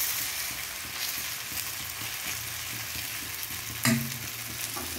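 Vegetable batter frying in hot oil for a mixed-vegetable snack, a steady close sizzle with soft stirring scrapes and one sharper clatter near the end, no voices.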